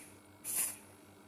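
A single short burst of smoke spray hisses into an ESP detector, a sharp close puff lasting under half a second amid quiet room tone.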